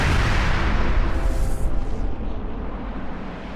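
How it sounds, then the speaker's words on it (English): A supernova explosion effect: a heavy, deep boom bursts out at full strength and rolls into a long rumbling decay that fades gradually. "the violent supernova explosions that mark the deaths of the brightest stars"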